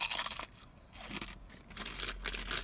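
Spicy, salted kettle-cooked potato chips are crunched close to the mic in several loud, brittle bursts separated by brief quieter gaps of chewing.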